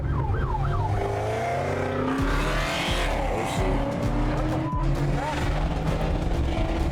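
Car accelerating hard in Sport mode, a loud rising engine roar with shifting pitch sweeps over a constant road drone, and excited voices talking over it.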